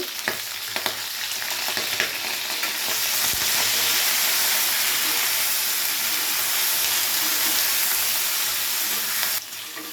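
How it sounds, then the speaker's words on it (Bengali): Continuous loud sizzling and crackling of okra frying in oil with salt and turmeric, steady throughout with occasional stirring clicks, cutting off sharply near the end. "ভেন্ডিটা ভাজার সময় সামান্য একটু নুন আর হলুদ দিয়ে ভেজে নেব"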